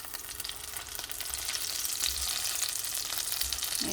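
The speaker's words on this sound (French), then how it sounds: "je vais les faire cuire un petit peu dans l'huile" Minced-meat and cheese boudin sausages fry in oil in a pan, giving a soft, even sizzle that grows a little louder partway through, with no talking.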